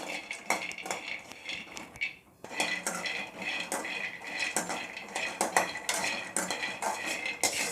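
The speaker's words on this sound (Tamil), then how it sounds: "பாதாமை ட்ரை ரோஸ்ட் பண்ணுறேன்" Almonds dry roasting in a pan over a low flame, stirred with a utensil: steady rattling and scraping with frequent light clinks of metal against the pan, close and continuous with no talking.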